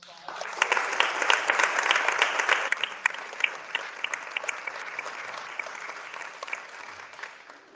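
An audience at a lunch-and-learn water week event applauds: a full burst of clapping that swells, then tapers into scattered claps, with faint voices underneath.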